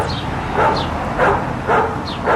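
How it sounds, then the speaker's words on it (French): A dog barking sound effect from an editing timeline, with four short, evenly spaced barks at moderate loudness over a faint steady background hiss. "C'est comme si on entendait un chien à côté"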